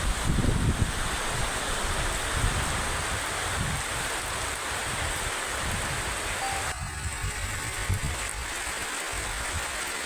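Steady cool wind blows across the microphone in a continuous broadband rush on a roadside near Kozhencherry, Kerala, loud and close, with a brief shift partway through and no talking.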